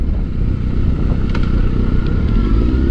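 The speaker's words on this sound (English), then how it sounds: "This pipe sounds so awesome. It's a Two Brothers exhaust." A motorcycle fitted with a Two Brothers aftermarket exhaust rumbles steadily while riding, its deep engine drone heard up close and mixed with heavy wind rush.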